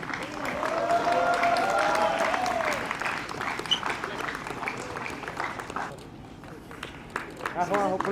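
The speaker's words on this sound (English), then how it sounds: "One more round of applause, please." A ceremony audience claps in a sustained round of applause, fairly loud at first and thinning out toward the end, with voices audible over and after the clapping.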